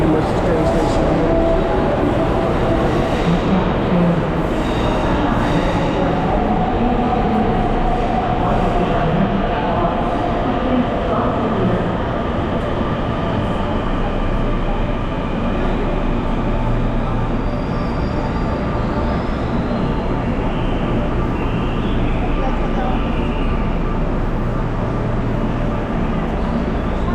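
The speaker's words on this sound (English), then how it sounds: "this is pretty much the train station here" A train moves through Rio de Janeiro's central train station, a continuous rumble of rail noise with faint squeals, while people talk nearby.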